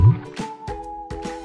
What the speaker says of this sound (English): Bubbling.